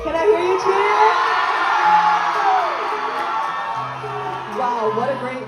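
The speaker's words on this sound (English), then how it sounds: "Can I hear you cheer?" A pageant audience's left side cheers on cue, a loud, sustained crowd of whoops, yells and shouts rising and holding, with high children's voices mixed in and brief shouted voices near the end.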